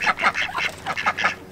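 Farm ducks quack in a rapid, close cluster of nasal calls, several birds overlapping in quick succession.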